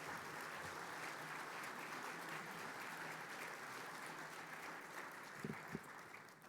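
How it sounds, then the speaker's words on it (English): Audience applause at an opening ceremony, a steady wash of many hands clapping at moderate distance, continuous and sustained with no talking over it. "Let's give another round of applause for our dear elder, Chief Keith Knott."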